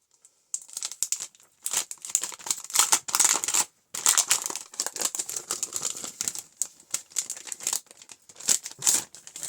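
A paper pack from a sewing-themed craft box crinkles and rustles as it is unboxed, in bursts of close, crisp handling noise with brief pauses between them.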